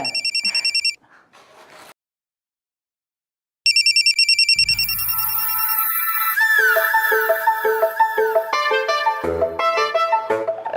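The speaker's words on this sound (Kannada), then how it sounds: "ಆಗಲೇ ರಿಂಗ್ ಆಯ್ತೈತೆ" A mobile phone rings indoors with a bright, repeating electronic ringtone. It starts, breaks off into a brief silence, then returns as a fuller, louder melodic tune that keeps looping.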